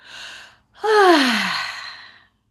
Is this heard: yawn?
yes